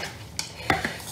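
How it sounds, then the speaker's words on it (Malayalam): A spoon mixes a seasoned coating for KFC-style fish in a bowl, giving a few soft scrapes and light clinks against the dish over quiet background, no talk. "നന്നായിട്ട് മിക്സ് ചെയ്യാം."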